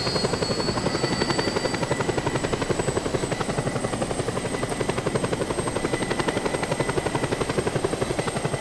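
Attack helicopter flying in the video game Just Cause 2, its steady rotor chop and engine drone loud and continuous throughout with no talk over it.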